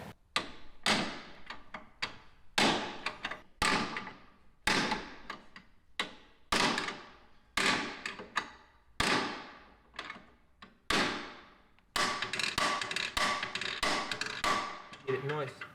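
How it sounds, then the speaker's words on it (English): Framing hammer blows against the frame of an Audi with hidden frame damage, a long series of sharp metallic strikes in bursts of two or three, close and loud, ending in rapid continuous banging. "we have our framing hammer."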